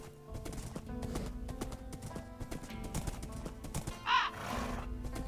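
A horse's hooves clip-clop steadily while riding through a densely wooded area in a Lord of the Rings-themed video game, with a brief whinny near the end over a soft game soundtrack.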